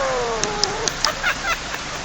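Rain falling in the evening, a steady close hiss of drops with a few brief sharper pattering taps, quiet overall and without speech.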